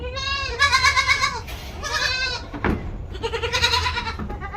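A Totapuri goat on a farm bleats loudly and close up in several long, wavering calls, with short pauses between them.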